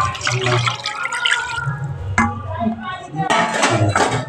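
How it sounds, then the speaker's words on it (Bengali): Water poured into a potato and paneer curry in a pan: a continuous pouring splash and gurgle, loud and close, with brief drips and a voice speaking over it. "আরও কিছুটা পরিমাণ জল আমি এর মধ্যে অ্যাড করে দিচ্ছি"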